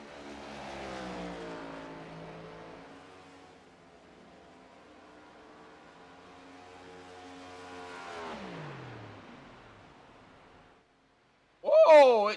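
A race car in a sim racing game at Pocono, its engine note falling away as the car coasts with the clutch in or the engine off, faint and fading, followed by a sharp burst near the end.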